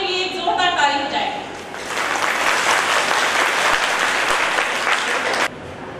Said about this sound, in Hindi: इसलिए महिलाएं सबसे पहले अपने लिए एक जोरदार ताली बजाएं।